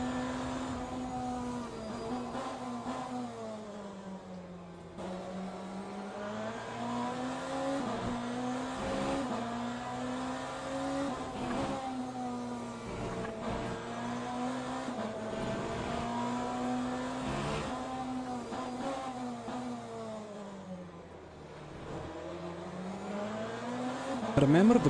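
GTE race cars in Le Mans Ultimate at Bahrain roar past in a continuous pack, engines droning and shifting pitch up and down, loud and sustained, with a commentator talking over them.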